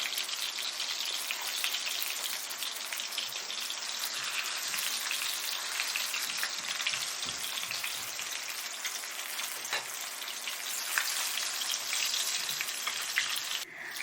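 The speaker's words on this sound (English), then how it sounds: "turn the pan and fry the fish around." Fish fries in a pan with a steady, dense sizzle and crackle of hot oil that holds an even level throughout, close and alone with no voices.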